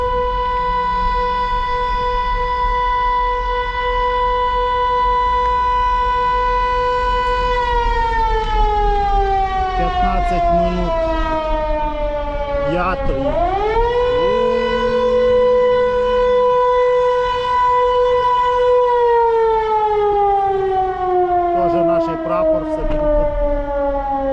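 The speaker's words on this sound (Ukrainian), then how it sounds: "Да, сирена конкретно тут." An air raid siren wails loudly across Poltava, holding a strong steady tone that slowly drops in pitch, dips sharply, then climbs back and sinks again, sounding continuously over faint street noise.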